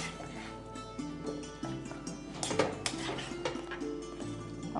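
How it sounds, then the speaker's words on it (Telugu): Chayote curry being spooned onto a serving plate, giving light metallic clinks and scrapes of utensil against dishware at close range, set against a steady low background hum. "సో మీరు వంట చేశారు కాబట్టి మీకు నేను సర్వింగ్ చేసి పెడుతున్నాను."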